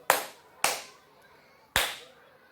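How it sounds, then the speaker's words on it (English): Hands clap a steady crotchet rhythm, three sharp, evenly spaced claps ringing clearly in a quiet room with short decays between them. "I'll count myself in, then I'll clap it, I'll do it twice"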